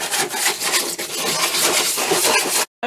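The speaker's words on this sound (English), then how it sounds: "I'm going to go ahead and just give this a really light sanding before I clean it" Light hand sanding of a bathroom cabinet in an RV before painting, a steady broadband rasp with rhythmic back-and-forth strokes, close and fairly loud, ending abruptly.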